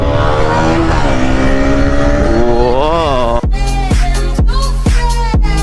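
A Royal Enfield GT650 motorcycle engine revs loud and close, its pitch climbing and falling, then a series of sharp throttle blips with quick drops between them.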